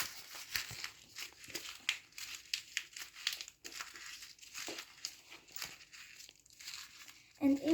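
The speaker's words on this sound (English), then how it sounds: "you need another white paper and you need to squash it to make a paper ball" White paper being squashed and crumpled by hand into a tight ball, giving a steady run of close, dry crinkling and crackling that keeps going for several seconds.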